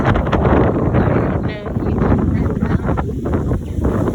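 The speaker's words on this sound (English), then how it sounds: "sorry, the wind is really picked up" Strong wind buffets the microphone at a riverside campground in Shawboro, North Carolina, with loud low rumbling gusts that rise and fall, surging and easing throughout.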